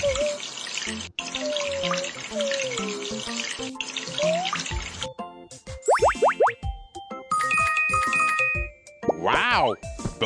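Cartoonish shower water rushes steadily in a puppy care video game for kids, broken by bouncy boing tones, then gives way to playful chimes and sliding effects.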